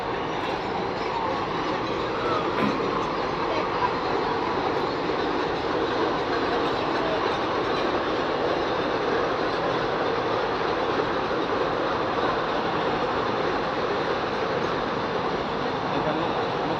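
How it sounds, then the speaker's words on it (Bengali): A freight train rolls along a railway bridge line, a loud continuous rumble and rattle of wagons with faint wheel clatter throughout, no talk. "এটা ট্রেন নয়, মালগাড়ি,"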